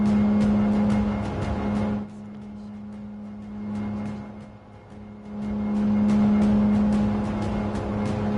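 Race cars in Gran Turismo 7, a continuous loud engine drone with steady humming tones that dip and swell as the car slows and speeds up again.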